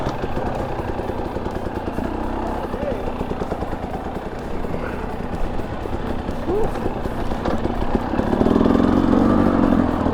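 A Husqvarna TE250i dirt bike rides forest single track in the Colorado Rockies, its engine droning steadily and close with rattling over rough ground and a rising rev near the end, while a rider talks over it.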